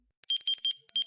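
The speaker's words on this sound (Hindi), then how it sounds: "अफजल का फोन है।" A phone rings with a bright electronic trilling tone in two close bursts separated by a short gap, clear and alone against silence.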